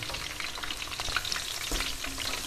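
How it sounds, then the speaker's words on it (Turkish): Minced meat for karnıyarık browning in a pot: a dense, continuous crackling sizzle with occasional scraping stirs, close but fairly quiet throughout. "Kıymam iyice kavruldu."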